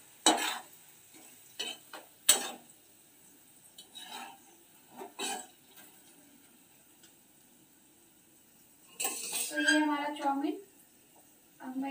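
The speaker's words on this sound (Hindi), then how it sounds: "अब हम इसमें चौमिन को मिक्स करेंगे।" Chow mein being tossed and stirred in a frying pan, scattered scraping and clinking strokes with pauses between them and a louder burst of stirring and sizzle near the end.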